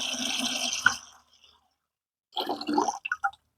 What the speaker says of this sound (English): So what we're going to do is now add the final water.